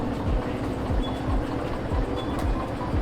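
Diesel locomotive rumbling as it backs up in the train simulator game Derail Valley, with a steady low engine drone and repeated rhythmic clunks of wheels over rail joints, continuous and close with no talk.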